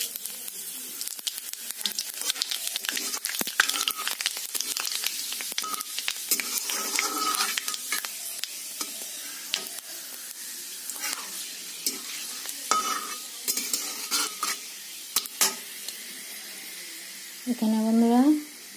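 Panch phoron spices tempering in hot oil, giving a busy crackling sizzle with stirring clatter throughout, then a brief rising whine near the end.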